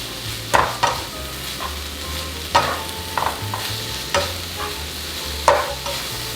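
Spicy Korean baby octopus is stir-fried with vegetables in a pan, a steady sizzle under repeated scraping strokes of the stirring utensil roughly every second, close and loud.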